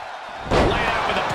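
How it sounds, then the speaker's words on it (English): A wrestler's power slam in the WWE 2K22 video game lands with a sudden heavy thud, then a loud, sustained crowd roar and an announcer speaking over it. "Light up with a power slam."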